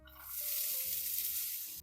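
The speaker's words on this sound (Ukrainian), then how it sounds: "Поки розігріли сковорідку, додаємо сюди олію і починаємо смажити підсмажку" Onion frying in oil in a heated pan, a steady, close hiss and sizzle that holds evenly throughout, quiet overall, with a faint low hum beneath.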